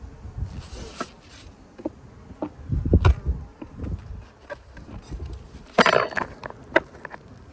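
Honey bees buzz around an open beehive, a low droning hum with bursts of closer wing noise and scattered knocks and scrapes of hive equipment, no talking.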